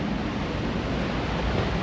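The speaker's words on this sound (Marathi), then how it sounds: "असा पाठीमागं समुद्र आहे" A steady broadband wash of sea surf on Chivla Beach, Konkan coast, with wind rumble, continuous and even, no voices.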